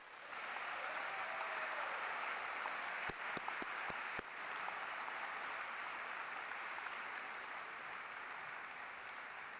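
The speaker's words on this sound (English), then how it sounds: "that's worthy of applause" Sustained audience applause fills a convocation ceremony hall, a dense steady wash of many hands with a few sharper claps standing out briefly near the middle, continuing evenly throughout.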